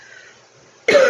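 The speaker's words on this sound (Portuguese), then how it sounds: "eu tô com uma tosse alérgica" One sharp, loud allergic cough bursts out at the end of a quiet stretch. It is close to the listener and no one is talking.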